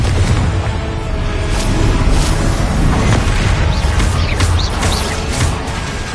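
A Confringo blasting spell in Hogwarts Legacy, heard as a loud sustained roar of booming and crashing combat noise that fills the whole stretch with no break.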